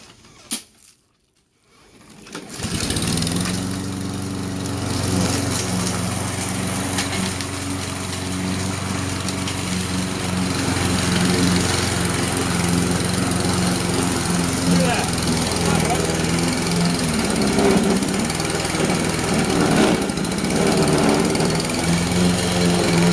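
Sharpened old lawn mower running through very tall grass on the mulching setting, a loud steady engine drone that starts up after a brief quiet moment, with someone talking over it throughout.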